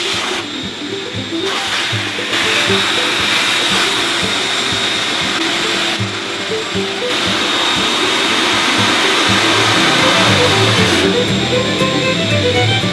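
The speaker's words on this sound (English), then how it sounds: "Turn on the shop vac." A shop vac runs close and loud for the whole stretch, a steady roaring whoosh with a high whine on top and small shifts in tone, with no talking over it.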